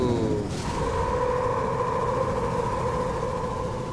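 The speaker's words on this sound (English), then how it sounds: "that was the sound of the immortal worm" A deep, rumbling roar of the giant immortal worm creature in No Man's Sky, with a sweeping whoosh at the start, settling into a sustained low drone with a steady tonal hum.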